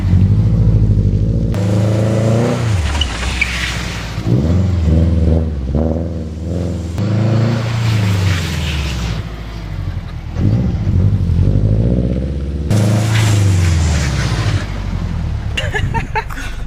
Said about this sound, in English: I've never been able to do a successful e-brake slide because it always sucked.